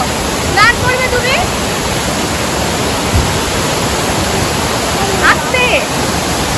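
Chungey Falls waterfall roars as a steady, loud wash of rushing water close by, with faint voices and brief whistle-like sounds rising above it.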